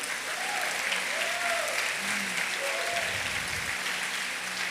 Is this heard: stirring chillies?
no